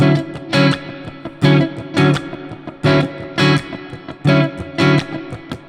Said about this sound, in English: And we filled it with ghost notes, it would sound a bit like this.